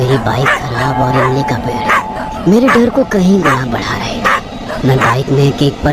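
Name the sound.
dogs barking at night, story sound effect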